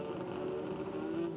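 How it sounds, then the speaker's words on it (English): Nissan touring cars launch off the start line in a 1992 touring car championship race at Amaroo Park, a steady loud engine roar sustained throughout the short moment with no speech. "off the line goes the Nissan, out and gone the pair of them"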